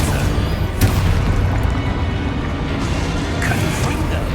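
The Expulso spell in Hogwarts Legacy sets off a loud, deep explosive boom, and its rumbling blast with debris noise carries on and fades across the moment.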